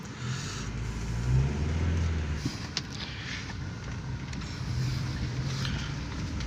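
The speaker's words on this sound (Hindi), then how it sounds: "अब मैं सबसे पहले ये गाड़ी रिवर्स ले लूँ, क्योंकि मैं मेन रोड पर नहीं जाना चाह रहा।" A car engine runs at a low, steady idle while the vehicle reverses. It swells briefly in the middle and carries a small knock, with no talking.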